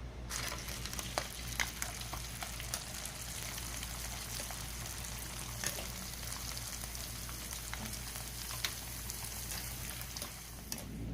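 Cassava crackers frying in hot oil, a steady, faint crackling sizzle with scattered pops throughout and no talking.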